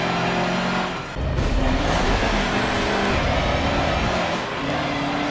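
Racing trucks in the Forza Motorsport 7 video game roar and rev on track, with a brief dip in the engine note and then sustained loud acceleration from several big engines, with no talk.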